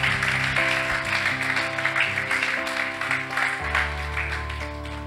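A church congregation applauds for Jesus, a continuous wash of clapping that stays steady throughout, with sustained music playing underneath.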